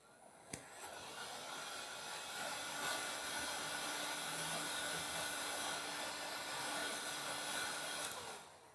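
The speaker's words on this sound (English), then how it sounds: "Now I'm going to use my heat gun and we're just going to shrink that." A heat gun blows hot air to shrink heat-shrink tubing while an FPV Crossfire receiver is fitted on an iFlight Titan XL5 HD quadcopter, making a steady, even whooshing hiss that runs alone after a faint click.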